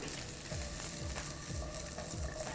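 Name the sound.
garlic and ginger sautéing in oil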